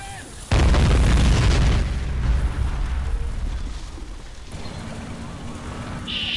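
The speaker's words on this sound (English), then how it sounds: "some more rockets for good measure" A salvo of rockets launches in Men of War with a sudden loud roaring blast, followed by a long rumbling, crackling wash of explosions that slowly fades, a faint high tone appearing near the end.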